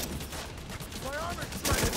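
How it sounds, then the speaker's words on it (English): Machine gun fire in the video game The Division 2, a dense rattling burst that grows louder near the end of a short, busy stretch of game noise. "so I can shoot him with the machine gun"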